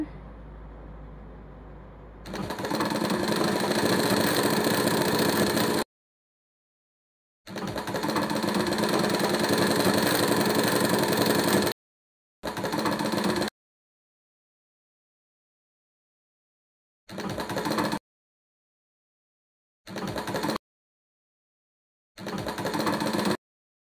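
A sewing machine stitches the yoke of a dress with a V-neck front and round-neck back. It runs in loud, steady, close bursts of several seconds, then in shorter runs separated by silent pauses.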